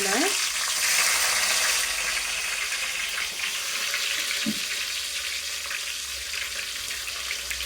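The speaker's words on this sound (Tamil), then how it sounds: "கடுகு நல்லா பொரிஞ்சிடட்டும்" Mustard seeds, fenugreek and garlic fry in hot oil with a soft, steady sizzle and occasional stirring, fairly quiet and even throughout.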